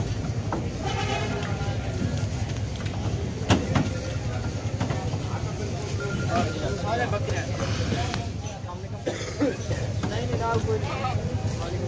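Goats bleat repeatedly and their hooves clatter as a small herd is loaded one by one onto a vehicle at a goat farm in Pakistan, with someone talking throughout and steady background noise.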